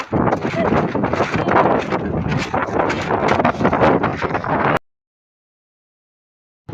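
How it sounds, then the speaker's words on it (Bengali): Strong wind buffets and roars loudly and continuously across a rooftop, then stops abruptly, leaving silence. "আর ছাদে কত হাওয়া দিচ্ছে দেখো উড়াই নিচ্ছে একদম"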